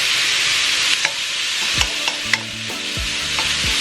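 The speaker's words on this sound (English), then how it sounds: "Now I'm going to go ahead and add in some garlic" Garlic, about seven cloves, sizzles loudly and close up in a pan, with several sharp clinks and scrapes of a utensil against the pan.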